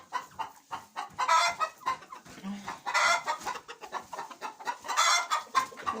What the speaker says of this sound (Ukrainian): Ось тут кури. Всі майже в приміщенні.